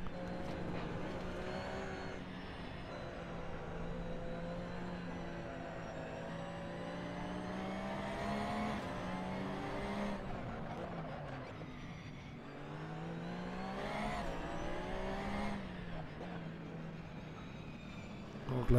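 A race car in Assetto Corsa on PS4 at Barcelona accelerates out of a corner in second gear. Its engine note climbs steadily, breaks briefly at gear changes, then rises again in a sustained, close, droning whine.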